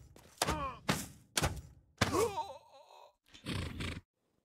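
A horse in the Rustler video game whinnies and snorts in short bursts between thuds, close and fairly loud, with brief pauses and a cut to silence at the end.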